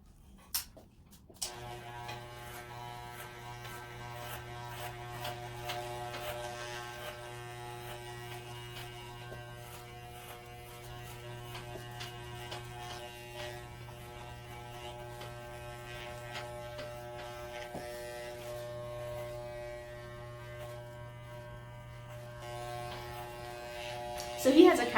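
An electric hair trimmer hums steadily and fairly quietly through a home haircut, a constant buzzing drone with small clicks and a brief knock at the start and end.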